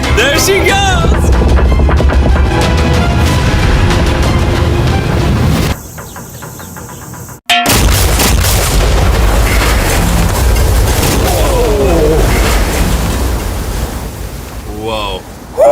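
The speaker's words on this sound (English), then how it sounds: "This explosion is going to be massive" A massive C-bomb explosion blows up a yacht on open water, a loud roaring blast with rumbling debris, then a brief lull and a sharp cutoff before the roar resumes; voices react nearby.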